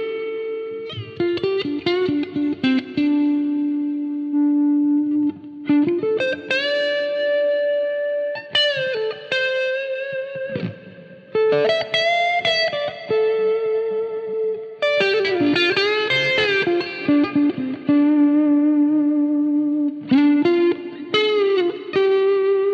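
Electric guitar played through a fast boost drive pedal, with sustained lead notes, bends and slides that carry a light overdriven edge, loud and continuous with short pauses between phrases and no speech.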